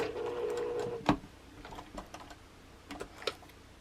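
A sewing machine stitches quilt fabric a quarter inch from the edge along a small triangle section, running in a steady buzz for about a second before stopping, followed by a few faint light clicks and taps close by.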